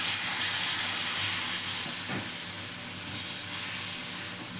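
Mango amboli batter sizzling on an oiled hot pan, a steady, loud frying hiss that holds throughout and eases slightly toward the end.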